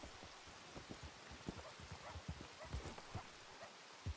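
A horse named Ghost clip-clops along in a video game, its hooves landing in an uneven, fairly quick rhythm of soft thuds over a faint rain-like hiss.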